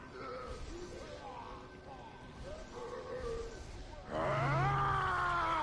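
A deep, growling beast roar swells loudly near the end, following a stretch of quieter grunting and rumbling sounds.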